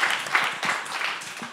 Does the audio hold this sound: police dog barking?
no